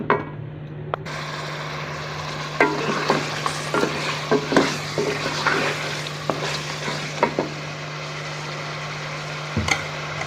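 Meat masala for aloo gosht being stir-fried over a medium flame: a continuous close sizzle with a low steady hum and irregular spoon scrapes and clatters against the pot, no talking.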